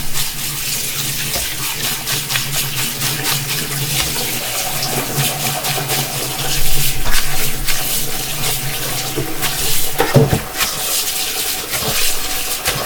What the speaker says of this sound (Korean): 찬물에 깨끗하게 헹궈 주시고